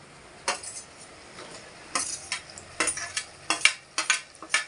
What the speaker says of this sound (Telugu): దీంట్లోకి కొంచెం టమాటా ముక్కలు వేసుకుందాం.